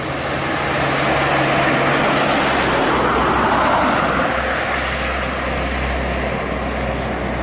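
A medium-sized bus runs downhill on a winding road out of Muara Bungo town, its steady engine drone and tyre roar close and loud throughout, with a low rumble beneath.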